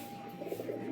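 A pigeon coos softly and briefly, with a low murmuring tone against faint background noise.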